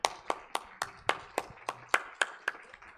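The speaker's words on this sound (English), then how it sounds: "I would like all of you to please give them a warm round of applause." Clapping for panelists at a sustainability and climate finance forum comes through as about a dozen sharp, separate claps in a steady rhythm, close and distinct, like a single pair of hands.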